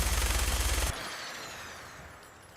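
Gunfire in the Fallout 4 video game: a rapid automatic burst of shots for under a second, then a fading, ringing tail that trails off into quiet.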